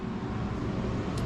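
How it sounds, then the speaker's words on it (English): Power line trucks drive past a farm barn, a low steady road rumble over just over a second, fairly faint and continuous. "There's still a lot of power line trucks going by, so that's why it's noisy"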